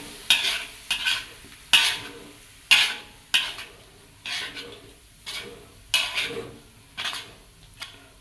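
Oncom being stirred in a frying pan: about ten regular scraping strokes of a spatula against the pan, each one scratchy and close, over a low continuous sizzle with no voices.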